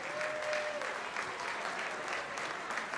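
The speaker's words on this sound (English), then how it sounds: "Give yourselves a round of applause for being here." Sustained applause from a banquet audience at a Young Life sponsor dinner celebrating a 60th anniversary in Tucson, a dense steady wash of many hands clapping indoors with a faint voice briefly underneath.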